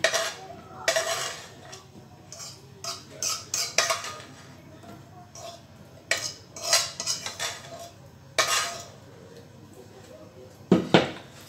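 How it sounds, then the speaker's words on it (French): Smoked bacon lardons and onions tipped from a dish into quiche pastry, heard as a run of clinks, scrapes and soft thuds of utensil on crockery, close and irregular with short pauses, no voices. "Les lardons, voilà, nos lardons avec les oignons. Je vais les verser dans la pâte."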